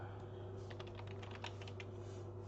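Computer keyboard keys tapped in a quick, uneven burst while typing into Notepad, close and fairly quiet over a steady low electrical hum.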